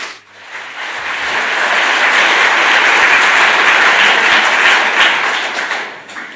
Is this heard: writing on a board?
no